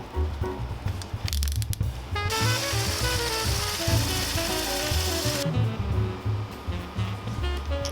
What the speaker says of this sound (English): The resonators are then screwed onto custom mandrels to be sanded to their final diameter.